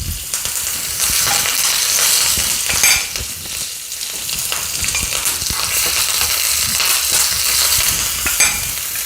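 Curry leaves and dried red chillies crackle and sizzle loudly in hot oil with mustard seeds as they are stirred in a pan for capsicum chutney, a steady close frying hiss with scraping.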